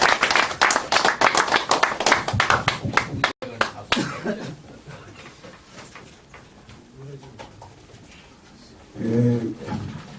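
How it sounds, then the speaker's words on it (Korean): An audience claps to welcome a speaker coming forward at a lecture hall gathering; dense, fairly loud clapping for about three seconds, then it cuts off into murmuring room noise and a voice speaking briefly. "나오실 때 박수로 환영해 주시기 바랍니다"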